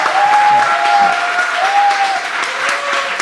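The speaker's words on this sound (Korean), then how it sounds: "박수 한번 하세요." A church congregation claps together at an afternoon worship service, a loud, steady wash of applause that holds for a few seconds. A thin sustained tone runs faintly underneath, with no one speaking over it.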